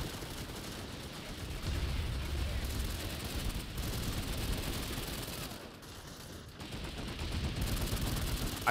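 Sustained automatic gunfire in the game Planetside 2, a dense, continuous rattle of shots that stays fairly steady with a short lull midway, with a faint voice in the background.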